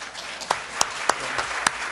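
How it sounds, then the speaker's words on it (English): Audience applause at a Rochester Board of Education business meeting, a steady wash of many hands clapping with a few sharper, louder claps standing out now and then, continuous for the whole stretch. "we were giving you a round of applause for your GPA"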